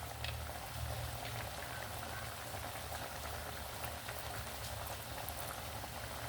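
Chickpea vadas deep-frying in hot oil, a dense, steady bubbling crackle that holds at an even level throughout with no one speaking.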